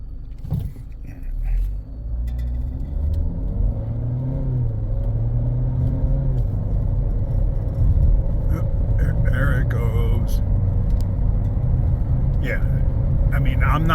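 A misfiring car engine idles while pulled over at the roadside, its codes freshly cleared, giving a steady loud low rumble with uneven roughness throughout and people talking over it.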